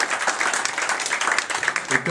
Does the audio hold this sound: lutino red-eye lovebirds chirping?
no